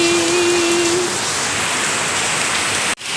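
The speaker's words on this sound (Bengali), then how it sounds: "কি মুসুলধারে বৃষ্টি পড়ছে দেখো বন্ধুরা" Heavy rain pours down in a dense, constant hiss, loud and unbroken, with a brief faint tone early on and a sudden dropout near the end.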